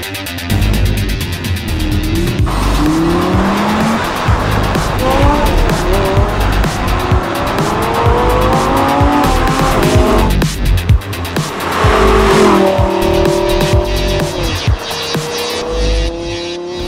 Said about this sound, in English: we are testing the first special edition of a Gallardo